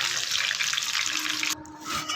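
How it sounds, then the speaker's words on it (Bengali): Potatoes frying in a wok for biryani make a bright, steady sizzle for about a second and a half, then it drops off abruptly and the clip goes quieter. "তো চলো আলুগুলো ফ্রাই করে নেওয়া যাক।"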